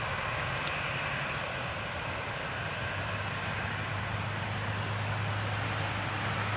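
A Lufthansa airliner taxis onto a stand at Newcastle Airport, a loud, steady jet-engine roar with a low rumble that holds constant throughout, no voices.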